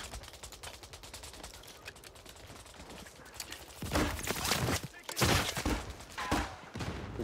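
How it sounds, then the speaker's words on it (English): Call of Duty combat gunfire, a long stream of quick automatic shots followed by several louder, heavier bursts close by, with faint background clatter and no talking. "They're shooting at us."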